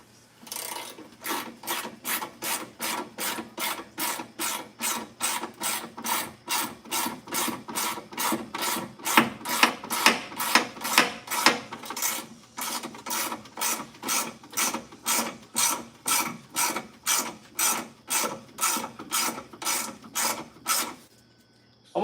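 A V-band clamp is ratcheted tight during a car head gasket replacement, a fast series of regular rasping clicks repeating over some 20 seconds, with a brief pause midway.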